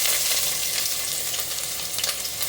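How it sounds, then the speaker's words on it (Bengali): Chopped onions frying in hot oil in a wok, a loud, steady sizzle that holds close and continuous with no talking over it. "পেঁয়াজ কুচিগুলো দিয়ে দিব"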